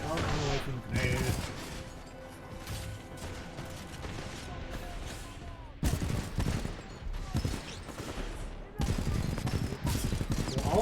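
Dense rapid gunfire rattles almost without pause in a Titanfall 2 firefight as enemies shoot at a robot ally, loud and close, with a few brief breaks and heavy impacts mixed in.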